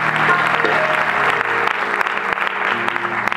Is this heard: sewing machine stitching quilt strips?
no